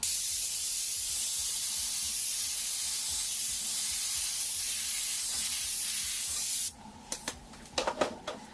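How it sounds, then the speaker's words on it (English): A steady, close airbrush hiss sprays black paint continuously for several seconds, then cuts off into a few short bursts and quiet handling noises. "connect our black, and just spray that in nice and dark"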